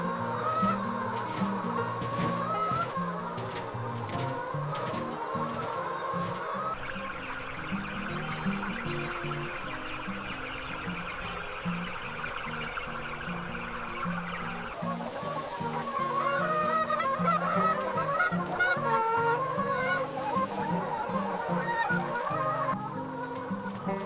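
Roosters and chickens on a large 10,000 square metre farm housing thousands of birds, a dense, continuous chorus of clucking and crowing that swells in the second half, with no talk.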